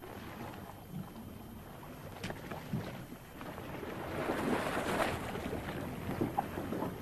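A motor launch runs on open water, with a steady low drone mixed with splashing and wind buffeting the microphone. It swells louder toward the end and stays faint overall.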